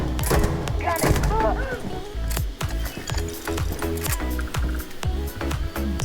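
Regulator firearm fired from the hip in the space game Starfield, a rapid string of sharp, loud gunshots repeating throughout amid busy game sound.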